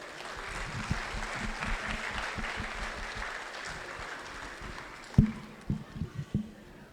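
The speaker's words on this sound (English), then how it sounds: "So let us give them a big round of applause." Applause from an audience at an Indian school event, a fairly soft, steady patter of clapping across a hall, with a few louder nearby claps standing out toward the end.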